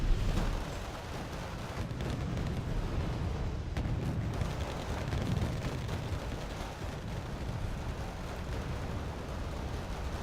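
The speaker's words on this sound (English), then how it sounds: "And oh, good napalm run, yeah." Napalm strikes in the wargame Wargame Red Dragon make a dense, continuous roar of fiery explosions and crackling gunfire. The sound stays at a steady moderate level with no voices.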